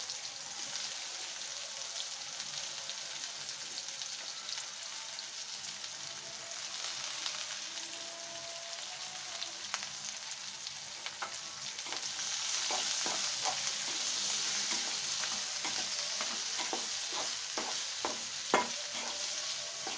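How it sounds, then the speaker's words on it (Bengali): Five chopped local onions frying in a pan for a Bengali egg curry, a steady soft sizzle with a brighter hiss building midway and scattered scraping stirs near the end, no talking. "জাস্ট আমরা আমাদের পেঁয়াজটা ব্রাউন হওয়া পর্যন্ত অপেক্ষা করি"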